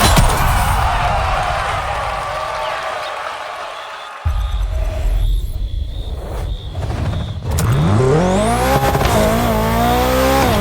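BMW car racing along Maui roads in The Crew Motorfest, engine roaring loudly throughout with tire squeal and a rising, shifting engine whine near the end.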